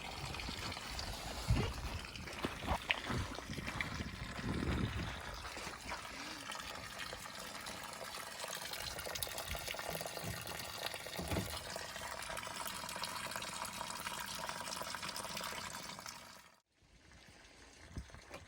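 Water drains and splashes steadily out of a camper's water system during winterizing, a continuous trickling pour that runs for many seconds before abruptly stopping near the end, with no talking.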